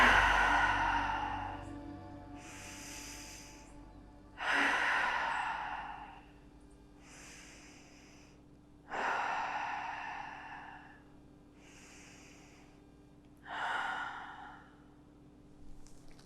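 Slow, deliberate yoga breathing, an inhale drawn in through the nose followed by a long, audible sigh out the mouth, repeated about three times with quiet pauses between, close and soft, no speech.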